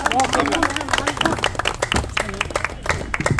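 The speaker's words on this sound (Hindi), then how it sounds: "चलिए जोरदार तालियों के साथ।" An audience at a gathering in a park in Gwalior breaks into applause, a dense patter of clapping that mixes with a voice and crowd noise at first and then continues on its own.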